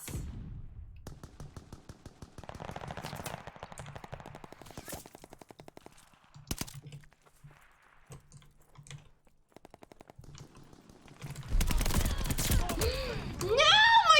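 Video game gunfire crackles in rapid short bursts with clicky rhythmic shots, broken by quiet gaps, then a louder rumbling stretch of combat noise near the end.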